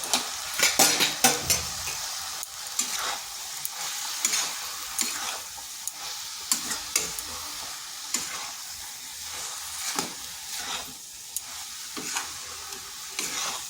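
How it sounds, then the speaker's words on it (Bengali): Cabbage with turmeric, cumin, coriander and chilli powders sizzles steadily in a pan while a spoon stirs and scrapes through it, sending out repeated sharp metallic clinks over a continuous frying hiss, with no voices. "ভালো করে এই মশলার সাথে একটু কষিয়ে নিচ্ছি"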